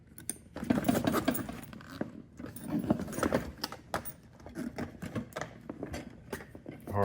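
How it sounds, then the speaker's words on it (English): A camera bag's zipper is pulled shut one-handed amid busy rustling and handling noise, with dense scratchy bursts running the whole time at close range. "Hard to zip with one hand"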